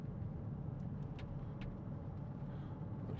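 A 2014 Range Rover SD V8 Vogue SE automatic 4WD cruises with a faint, steady hum of engine and road noise, heard quietly from inside the cabin.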